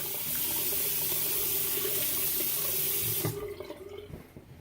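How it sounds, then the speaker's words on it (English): A bathroom tap runs steadily into a sink while a face is rinsed with cold water after shaving, a close, continuous splashing flow that cuts off near the end, leaving a few faint drips and handling sounds. "I'm going to go ahead and rinse it again"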